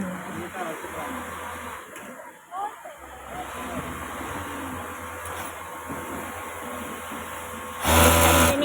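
A sewing machine runs steadily, stitching a collar and tape together in a single seam, with a continuous mechanical whir that swells louder near the end while people talk over it.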